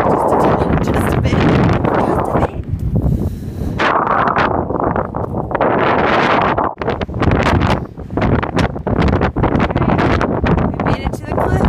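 Strong wind roars against the microphone at seaside cliffs in Ireland, a loud continuous buffeting that swells and dips throughout, with people talking over it.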